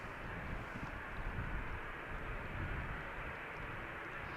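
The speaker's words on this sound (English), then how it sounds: "Now the EasyJet Airbus going to the runway threshold" An EasyJet Airbus taxiing toward the runway threshold at Amsterdam Schiphol, its jet engines giving a steady, broad, distant roar that holds level throughout with no voices.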